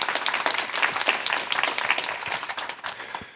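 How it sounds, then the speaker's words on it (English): Audience at a technical conference applauding a team, a lively wash of many hands clapping at steady strength that tapers off toward the end. "Yeah, we can applaud them."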